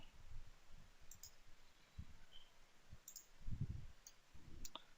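Computer mouse clicks during Citrix FAS server setup, a few soft, sparse clicks spaced out over quiet room tone, no talk.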